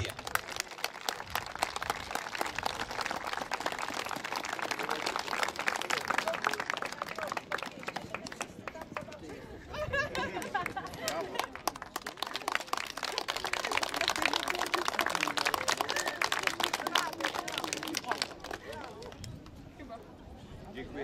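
Steady applause from a sizable crowd at an outdoor cavalry reunion show with uhlan and trick-riding displays, a dense patter of many hands clapping that continues throughout, with faint voices mixed in.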